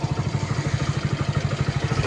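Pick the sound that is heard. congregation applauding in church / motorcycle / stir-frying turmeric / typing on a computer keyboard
motorcycle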